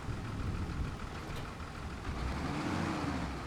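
A farm vehicle in the video game Farming Simulator 25 reverses with a steady, droning engine hum that holds a constant moderate level throughout.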